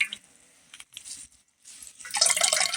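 Water being wrung out of cooked greens for fish saag, dribbling and splashing into a vessel below. It starts as faint, scattered drips and swells into a louder, steady trickle near the end.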